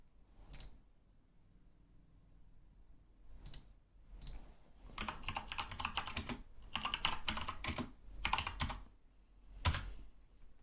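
Typing a command into a terminal on a computer keyboard, with scattered single key clicks at first, then a dense run of quick, faint, close-miked taps and a final firm keystroke.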